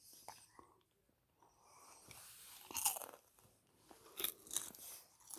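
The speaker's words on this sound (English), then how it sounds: "eating up caramel popcorn and doing this." Caramel popcorn being eaten close to the mic, with quiet, irregular crunches and chewing bursts over a soft hiss and faint breathy, whispery voice sounds.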